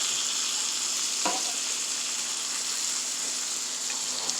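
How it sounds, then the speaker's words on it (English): Top sirloin steaks sear in a hot pan with a steady, dense sizzle that holds throughout, close and loud, with only a faint clink or two breaking the even hiss. "All we're doing here is searing. That's it. We're searing and we're going to baste it a little bit with the butter."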